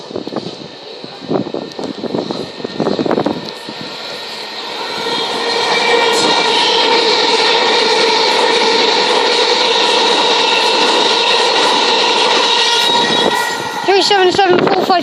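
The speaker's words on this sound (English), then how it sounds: "the next train to turn up is going to be a double pairing of Southern 377s" Two coupled Southern Class 377 electric trains pass through South Croydon on the Brighton Main Line: brief talk, then a loud, steady rushing rumble with wheel noise that holds for several seconds, and squeals near the end.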